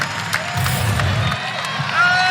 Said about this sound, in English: She gets a nice round of applause from the fans, well-deserved.